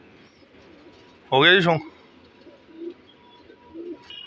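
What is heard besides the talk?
pigeons cooing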